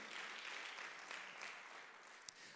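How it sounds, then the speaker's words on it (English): A church congregation claps in praise during a Sunday service. The applause is soft and diffuse, heard from a distance, with a single sharper clap near the end. "Give the Lord one more clap of praise in this house today."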